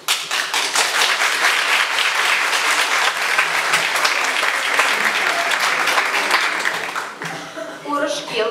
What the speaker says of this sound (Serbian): U narednim minutima uživamo i bodrimo aplauzom